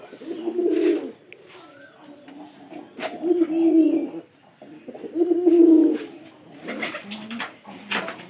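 Domestic pigeons in a home loft coo in repeated low, throaty bursts about every two to three seconds, fairly close and clear against a quiet background.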